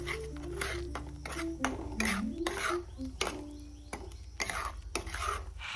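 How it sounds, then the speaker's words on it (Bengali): A spoon scrapes and clinks in a pan while a cashew, poppy seed and fennel paste is stirred over low to medium gas flame, with a steady run of close metallic strokes over a low hum and faint tonal sounds in the background. "আবার নাড়তে থাকলাম।"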